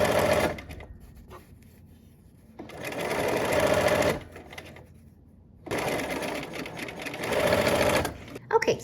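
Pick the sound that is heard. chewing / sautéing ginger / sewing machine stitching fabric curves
sewing machine stitching fabric curves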